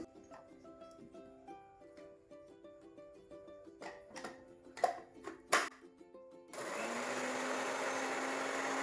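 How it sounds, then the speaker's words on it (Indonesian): A blender starts up with a steady, loud whirring drone after some quieter clattering and clicking sounds, grinding cassava leaves without water. "Kita blender tanpa menggunakan air ya."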